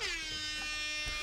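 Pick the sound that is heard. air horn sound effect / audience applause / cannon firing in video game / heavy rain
air horn sound effect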